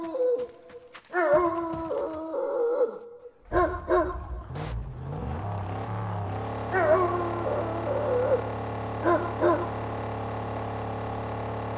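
Dog in the Mad Max video game, giving a series of whimpers and howl-like calls amid engine and vehicle noise, then a low steady rumble underneath further short yelps and howls.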